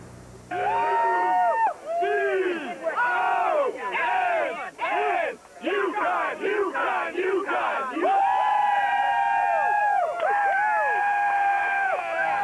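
UConn Husky fans outside Tropicana Field celebrating the school's biggest win, loud whooping and rising shouts in bursts, then long sustained yells and cheering up close.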